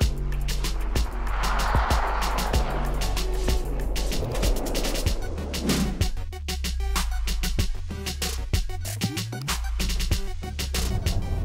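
A Porsche Taycan 4S drives on snow in Finland, its tyres crunching and hissing over the surface with bursts of thumps and scraping as the car moves, loud and close, with a low cabin rumble underneath and no speech.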